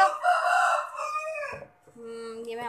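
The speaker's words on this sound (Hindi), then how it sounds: "ये भी हमारा मुर्गा प्यारा सा अजान दे रहा है इस वक्त" A rooster crows once, a clear harmonic call of rising and held tones lasting over a second, loud and fairly near, followed by a quieter tonal fowl call in an otherwise talk-free household setting.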